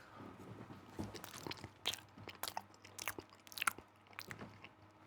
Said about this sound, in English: I'm intentionally trying to eat loud.